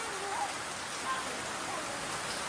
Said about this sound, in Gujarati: ભાઈ વરસાદ શું ચાલુ છે